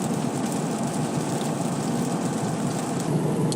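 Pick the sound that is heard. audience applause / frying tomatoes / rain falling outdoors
rain falling outdoors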